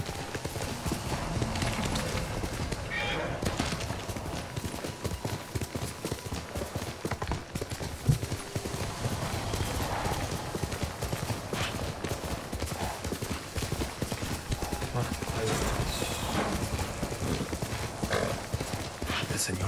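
A horse gallops in Ghost of Tsushima, steady hoofbeats thudding continuously at a fast rhythm under game ambience and talk.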